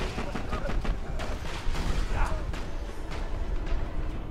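Explosions in the video game Borderlands 2: dense, continuous bursts and rumbling blasts with crackling gunfire, loud and chaotic throughout, with no pause between impacts.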